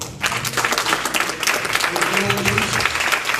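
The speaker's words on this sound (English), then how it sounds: "Give Lord a hand clap offering." Church congregation giving a hand clap offering to the Lord, dense rhythmic clapping with cheers, and a voice rising over it partway through.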